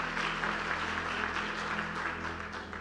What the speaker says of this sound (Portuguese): Aplauda o Senhor na vida deles